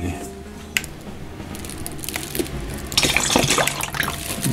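Hot water is poured into a camp mess tin to keep bread dough warm for its second rise during outdoor cooking: a short, hissing pour that swells midway through, close by, over low background rustle.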